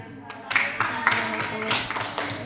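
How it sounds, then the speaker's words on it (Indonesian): A small group claps hands in a quick, uneven burst that starts abruptly after a moment of quiet, close and moderately loud in an indoor room. "Oke, tepuk tangan."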